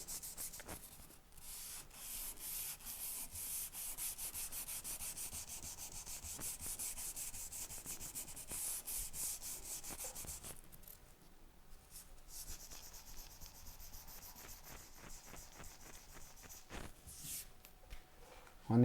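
Hand sanding a varnish repair with 320-grit sandpaper: a continuous, close, scratchy rubbing, with brief pauses and strokes in a steady rhythm.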